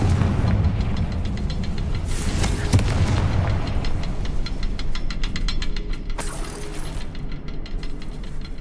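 Confringo fire spell blasting in Hogwarts Legacy, a loud, dense run of booming explosions and crackling bursts that rolls on without pause, with sharper bangs standing out partway through.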